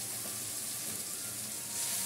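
Onions and tomatoes fry in a pan with a continuous dense sizzle, close and steady for the whole short stretch, without any voices.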